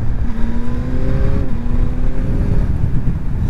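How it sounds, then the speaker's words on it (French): A 2023 Yamaha MT-09 motorcycle accelerates hard, its loud engine note climbing steadily and close by, with no voices over it. "Oh, ça, cette accélération a l'air incroyable"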